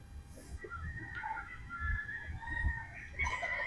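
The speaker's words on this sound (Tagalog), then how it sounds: "So ito, isang Boston Roundhead, pick number 2 natin to para kay Sir Ian. Gwapong manok din ito, mga bossing" A Boston Roundhead gamefowl rooster at a game farm, heard as a few fairly quiet clucks and crow-like calls over low background noise.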